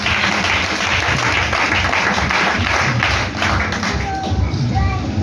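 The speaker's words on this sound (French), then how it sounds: "Acclamons Jésus." A church congregation gathered for a Passover service applauds together to acclaim Jesus, a dense, sustained burst of clapping with scattered voices and a few short tones rising near the end.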